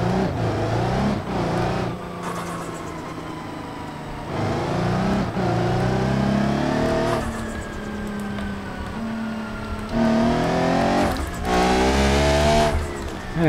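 A Formula 2 car in BeamNG.drive, a sequential six-speed machine driven through city streets, revs hard in repeated rising sweeps with gear changes and brief tire squeal, loud and close, with no talk.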